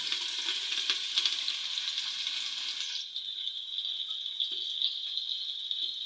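Onions frying in a pan for bhuna khichuri give a soft, steady hiss. It starts broader and busier, then settles into a thinner, quieter sizzle halfway through, with a few faint stirring taps.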